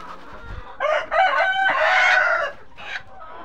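Tiger breed chickens at a poultry farm, a nearby rooster crowing loudly in one long call along with several short clucks, with no talk.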